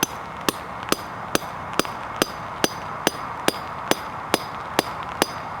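A drop-in anchor being hammered into a cement floor to bolt down a gun safe: a dozen sharp, evenly spaced metallic blows, about one every half second, close and clear over a faint background hum.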